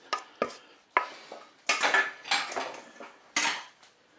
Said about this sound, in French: Je dépose le moule dans la cuve du Cookéo